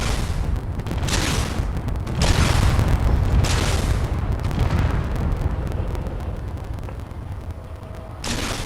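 Heavy booming broadside volleys from a warship's guns in Space Engineers, several loud blasts with rolling rumble between them, the last burst arriving near the end without voices over it.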